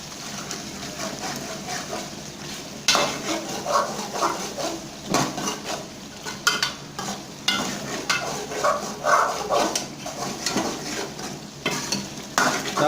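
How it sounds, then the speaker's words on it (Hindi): A spoon scrapes and stirs beef karahi in a cooking pot over a steady sizzle, with irregular clinks and scraping strokes throughout. "इसको मिक्स करेंगे। चम्मच के साथ"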